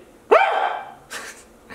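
A dog gives one loud, close bark followed by a couple of fainter, breathy huffs, indoors during a home haircut session.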